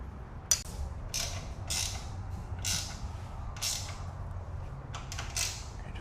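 Bolts are ratcheted tight on an aluminum modular rack for a Polaris Ranger 1500, giving repeated bursts of clicking ratchet strokes about every second, close and fairly loud, with no speech.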